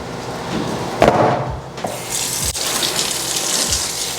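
Tap water gushes loudly over raw chicken in a strainer in a kitchen sink, a close, steady splashing stream broken by a few sharp knocks and clatters.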